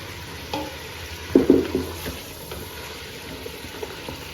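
A few spoonfuls of water go into potatoes frying in a pan for aloo pulao, a brief splash and sizzle flaring up near the middle over a low kitchen background.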